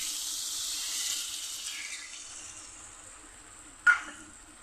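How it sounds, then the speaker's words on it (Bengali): Water is poured from a tap or vessel into curry masala cooking in a pan, a soft steady splashing hiss that fades over a few seconds, followed by a brief sharp clink near the end; no voices. "এখন আমি কিছুটা জল দিয়ে দিচ্ছি"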